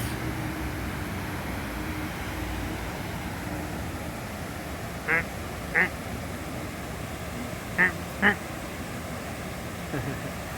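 Over steady background noise on the Las Vegas Strip, a goose gives four short honking calls in two pairs, moderately distant and fairly faint.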